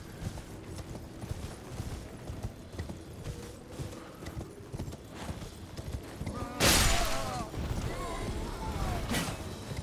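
Torrent, the spectral steed in Elden Ring, clip-clops at a steady galloping rhythm throughout, with a loud burst of combat noise partway through and background game effects.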